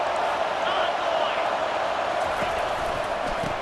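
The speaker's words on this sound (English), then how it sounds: "And here comes the noise. This crowd is trying to inspire this defense to make a big red zone stop." Loud, steady roar of a packed football stadium crowd cheering to rally the defense before a red zone goal-line stand against Michigan, sustained and dense throughout.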